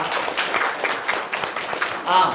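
A church congregation applauds during a Christmas service, a dense, fairly close round of clapping that is steady for about two seconds and swells slightly at the end.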